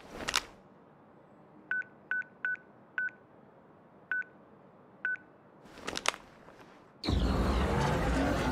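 Flip phone keypad tones in Crisis Core Final Fantasy VII Reunion: six short beeps dialed in an uneven rhythm, framed by brief clicks of the phone opening and a burst of noise at the end.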